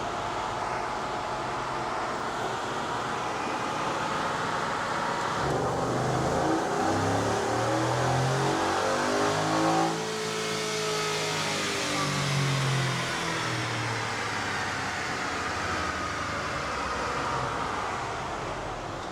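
A stock Ford F-150 pickup engine revs steadily on a dyno and climbs in pitch, a sustained mechanical roar that rises and falls over a long pull, with no talking.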